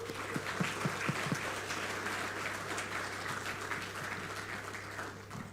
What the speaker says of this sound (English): Let us give a round of applause to the men and women behind this.